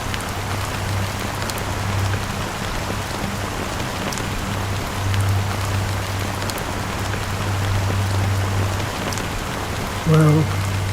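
Steady rain falls in the video game Honkai Star Rail, a continuous even patter that lasts throughout with a low hum underneath and a brief tonal blip near the end.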